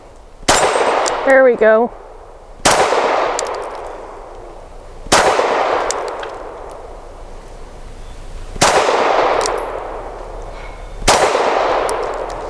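A Sig M17 X Change pistol fires about five single shots spaced a couple of seconds apart, each a sharp crack followed by a long metallic ring off steel targets, and a brief spoken remark comes after the first shot.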